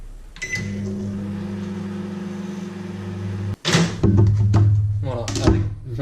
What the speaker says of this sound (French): on va le remettre 20 secondes au micro-ondes